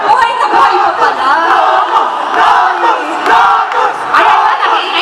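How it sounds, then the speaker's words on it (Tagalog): Crowd at a Perfect World esports tournament cheers and shouts loudly and continuously, the roar swelling in waves. "nag-iingay na ang crowd natin"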